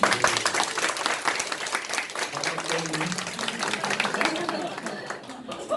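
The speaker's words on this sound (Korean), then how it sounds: "박수 한번 솔직히" An audience at a health-supplement seminar applauds in a dense, steady patter of many hands that lasts throughout, with voices faintly mixed in.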